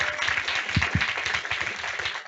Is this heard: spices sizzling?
no